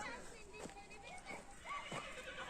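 A donkey at a highland summer pasture lets out a few harsh, strained cries in short bursts, close by, with people talking over and between the calls.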